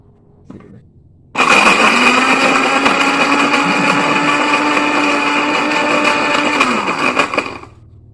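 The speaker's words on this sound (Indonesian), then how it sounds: "Second, turn on the blender. Wait until the orange and ice cups dissolve it." An electric blender starts up and runs loud and steady for about six seconds, churning orange and ice, then winds down, with a brief thump just before it starts.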